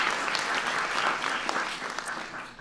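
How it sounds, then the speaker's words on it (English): Audience applause at a White House science fair, a dense, steady wash of clapping from a crowd that continues for a couple of seconds and tapers slightly at the end. "Give him a big round of applause."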